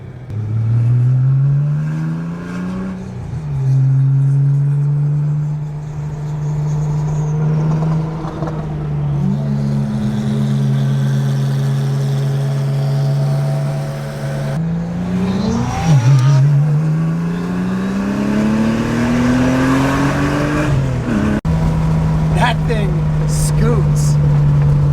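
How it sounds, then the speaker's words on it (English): An RWB-built car's engine revs up and holds steady through several long pulls, its tone rising and settling between gear changes with turbo whooshes and flutter, loud and close, with a brief burst of voices near the end. "Turbo noises that the DP makes is mental."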